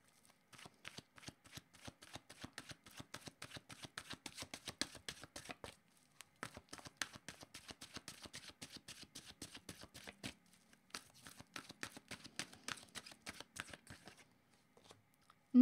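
Oracle cards being shuffled by hand, a long run of rapid crisp riffling flicks close up and soft, with brief pauses between rounds and no talk.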